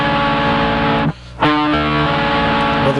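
A distorted electric guitar rings out a sustained, dissonant chord from a song, briefly cut off near the middle before being struck again and left to ring loudly.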